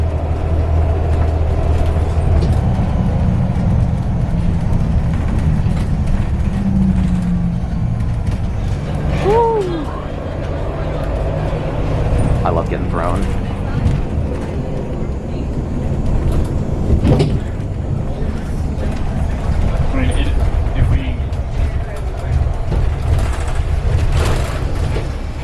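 A Van Hool bus climbs through the Berkeley Hills with a constant deep engine rumble from inside the cabin, broken by scattered squeaks, rattles and brief high creaks.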